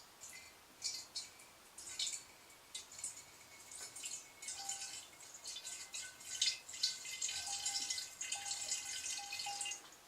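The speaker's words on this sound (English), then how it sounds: "So I like to pour some of the bottled water straight in." Bottled water is poured into a mead container, giving soft, irregular trickling and splashing with small drips that build and continue steadily throughout at a quiet level.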